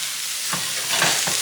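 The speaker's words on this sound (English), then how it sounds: "My favorite part, stirring." Meat stirred with smoked paprika in a hot frying pan, a steady sizzle with a few soft scraping strokes of the spoon, close and fairly quiet, no voices.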